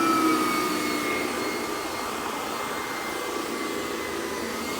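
A Vacuflo central vacuum cleaner runs on a worn carpet with a steady, loud whooshing hiss and airflow whine. The sound holds evenly throughout with no talk.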